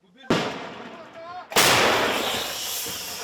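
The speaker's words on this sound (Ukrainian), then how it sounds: "Самохідка працює по техніці супротивника, коригується безпілотником." Two heavy blasts from a 2S1 Gvozdika self-propelled howitzer firing on enemy armour near Bakhmut, each a sharp, loud boom followed by a long rumbling decay, the second louder and closer.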